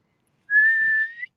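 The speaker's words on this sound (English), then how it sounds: "Sorry about the whistling." A single steady whistled note held for under a second, clear and close, rising slightly at the end.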